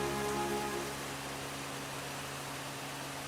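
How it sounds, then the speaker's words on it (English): Rain falling in a field, a soft steady hiss of drops close by, even and unbroken, with a faint low tonal hum fading out in the first second. "The rain doesn't seem to be stopping anytime soon."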